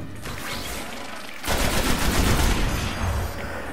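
Automatic rifle fire in the video game Destiny: a sustained, dense burst of rapid shots that grows louder halfway through and continues at close range, with no talking.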